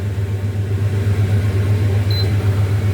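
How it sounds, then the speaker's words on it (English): An oven being switched on while bean soup cooks: a steady, loud low appliance hum runs throughout, with one short, thin electronic beep about two-thirds of the way in. "now we're going to turn the oven on for another 5 minutes"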